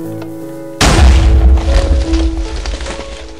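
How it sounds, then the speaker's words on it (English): A sudden, loud TNT explosion in a pirate battle video game, a sharp booming blast with heavy low rumble and crackling debris that slowly decays, following a faint quiet lead-in. "it exploded about 2 feet away from the TNT you had placed"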